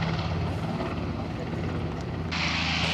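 A P-51 Mustang warbird flying at the Hamilton, Canada airshow, its piston engine a loud steady roar with propeller drone, heard under a public-address announcer's voice.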